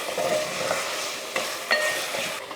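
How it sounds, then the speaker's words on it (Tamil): Potatoes and mutton sautéing in a pan for a Diwali non-veg lunch, a steady low sizzle with a few scraping stirs of a spoon, close and alone with no talk. "அதனால் கொஞ்சம் உருளைக்கிழங்கையும் சேர்த்துட்டு நல்லா வதக்கி விட்டுறலாம்."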